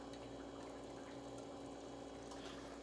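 Steady low hum of a pump recirculating wort through a homebrew mash setup, with a continuous liquid flow and trickle running evenly throughout, no talking.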